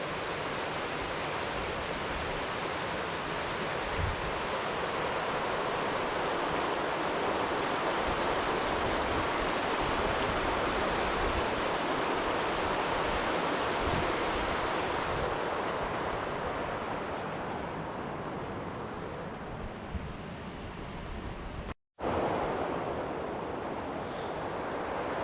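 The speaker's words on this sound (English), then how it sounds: "The noise of this water flowing past is just incredible." Loud, steady rushing of water pouring past Backwater Dam in Scotland, a continuous broadband roar that briefly cuts out near the end before resuming.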